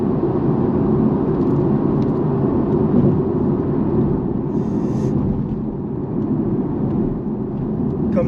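Porsche 718 Cayman (982) engine droning steadily and loud from inside the cabin while driving through turns, a dense low rumble that holds at an even level throughout.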